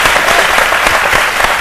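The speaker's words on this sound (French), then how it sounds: "on applaudit très fort Loïc." A studio audience on a midday television show breaks into loud, dense applause, a steady wash of clapping that stays at full strength throughout.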